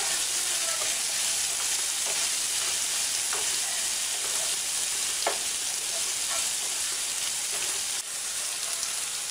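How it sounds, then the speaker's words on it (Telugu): Gherkin pieces and coconut sizzle steadily in hot oil in a pan, with a broadband frying hiss throughout and occasional soft scrapes and taps as the mixture is stirred; no talking. "వేసుకొని బాగా కలుపుకోవాలి. కలుపుకుంటూ ఉండాలి."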